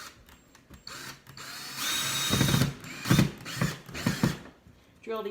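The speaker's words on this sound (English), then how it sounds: "let's see if I can even fit my drill in this little tiny spot." A power drill whirs in several short bursts, revving up and stopping between pulses, close by with faint background noise.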